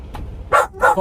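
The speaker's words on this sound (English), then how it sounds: "Excuse my damn dog back here causing a ruckus." A dog in the back of a truck cab barks twice in quick succession, loud and close, with a faint whine before the barks.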